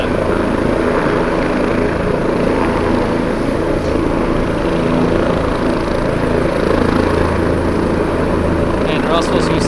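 A helicopter's rotors and engine run loudly and steadily nearby as the aircraft spins up for takeoff, a continuous broad roar with a low throbbing undertone filling the whole stretch.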